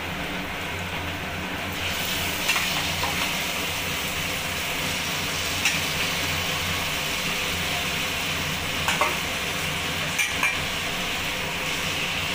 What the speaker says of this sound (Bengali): এবার কচুর শাকটা আমি এর মধ্যে দিয়ে দেবো